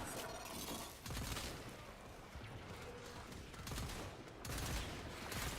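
Heavy, rapid bursts from the Latum gun with strong recoil in Warframe, crackling shots and shattering impacts layered over a dense, noisy game battle, with brief lulls between volleys.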